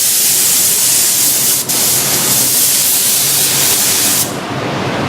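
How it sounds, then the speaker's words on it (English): Spray gun laying down a light sealer coat on a spray-out panel, a loud steady broadband hiss lasting several seconds with a brief dip, then the spray cutting off near the end. "And okay, let's get spraying."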